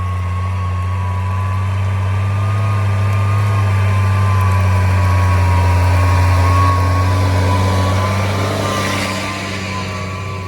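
A tractor diesel engine running steadily at close range on a small farm, a loud continuous low rumble with a constant drone that eases slightly toward the end.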